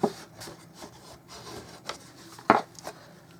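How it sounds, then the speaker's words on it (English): Short rubbing and rasping strokes of a tool burnishing a fold in card stock for a handmade card, quiet and close, with a sharper scrape near the end. "And then you're going to burnish."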